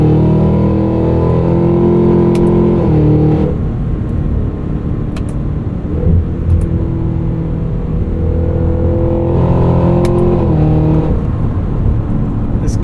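Cabin view of a 2025 Cadillac Escalade V pulling at full throttle, a loud, steady engine drone climbing through gears with brief dips at shifts, heard from inside the vehicle.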